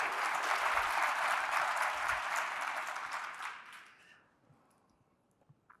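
A keynote audience at a RailsConf tech conference breaks into dense, loud applause that holds steady for about three seconds and then fades quickly into near silence, with a few stray claps at the end.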